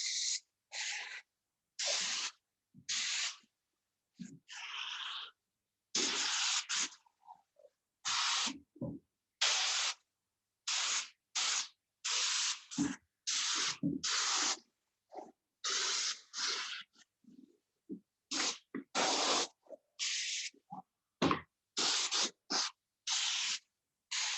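A Paasche airbrush spraying dye onto a leather car seat up close, heard as many short hissing bursts separated by silent pauses.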